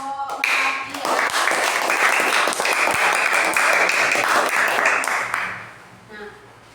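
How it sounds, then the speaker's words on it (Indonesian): A group of listeners claps for the Melati team in a classroom or workshop setting, a dense burst of applause sustained for several seconds before tapering off, with a voice briefly audible near the end. "tepuk tangan dulu buat kelompok Melati ya"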